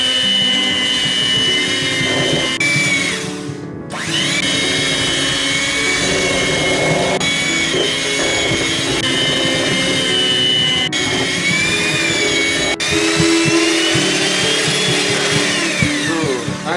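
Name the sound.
electric mixer mixing banana bread batter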